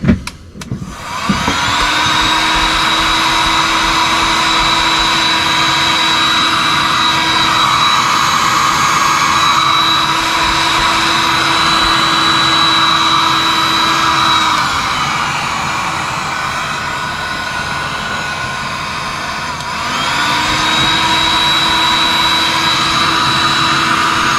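A nitro RC car engine catches after a brief start-up clatter, then screams at a high steady whine, dips and drops for a few seconds, and picks back up, loud and close with no voices.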